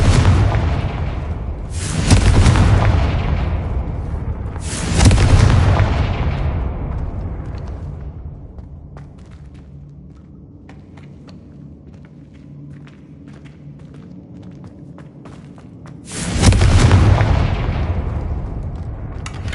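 Confringo blast spells going off in Hogwarts Legacy: three loud, broadband booming explosions at wide intervals, each with a long rumbling decay into a quieter ambient bed between blasts.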